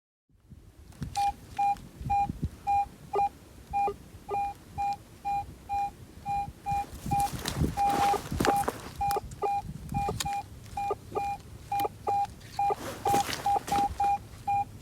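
A metal detector sounds a repeating coin signal over an old plowed homestead field, ringing like a large cent: steady bursts of pure beeping tone in a regular rhythm, loud and close against faint background rustle.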